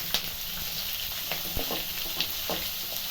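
Sliced onions with green chillies and dried red chillies frying in oil for lemon rice give a steady, close sizzle with light crackles and the occasional clink of stirring throughout.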